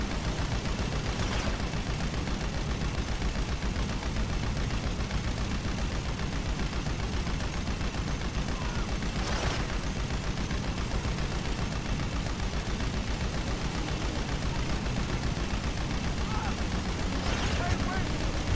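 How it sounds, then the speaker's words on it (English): Bombs going off amid steady gunfire in a video game set among dune buggy, half-track and MOC missions, a dense continuous din of shots with a few louder bursts standing out, while voices talk over it. "Got someone throwing the bombs."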